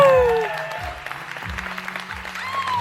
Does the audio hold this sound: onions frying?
no